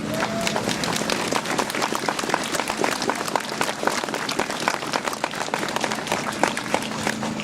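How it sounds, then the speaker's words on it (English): Audience applause from a crowd indoors, dense steady clapping that stays loud and even throughout with no talking. "You're all clapping, but it was an apology."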